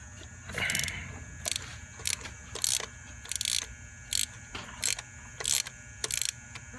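Close, crisp bursts of ratchet clicking as a spark plug is tightened on a 2014 Ford Taurus, coming in short repeated strokes separated by brief pauses.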